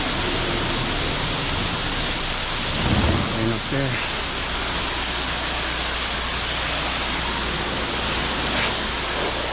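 A steady, loud hiss of water spraying against the side of a house covers the whole stretch, a dense wash of noise with a brief voice near the middle.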